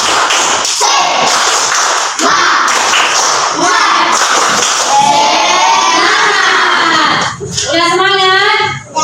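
Schoolchildren in a classroom perform a tepuk semangat clapping chant, a dense burst of rhythmic claps and taps mixed with loud young voices shouting together, ending in a short gap and a rising group call.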